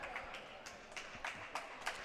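Scattered applause in a high school gym for a boys' basketball player leaving the court, Assumption versus Pacelli, with sparse, uneven claps at moderate distance over a faint background murmur.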